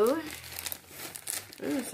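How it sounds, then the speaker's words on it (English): A plastic Ziploc bag crinkles as its stubborn zipper is pulled open, close-up rustling bursts spread over two seconds, with a brief voice sound at the start and end. "the Ziploc bag does not want to open"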